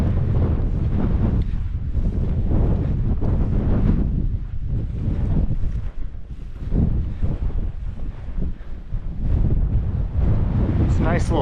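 Strong gusting wind at an exposed mountain campsite buffets the microphone with low rumbling blasts that rise and fall, while someone talks now and then underneath.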